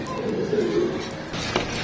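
Pigeons coo softly at a pigeon farm, a low throaty warble rising and fading over a couple of seconds, close by, followed by a brief rustle.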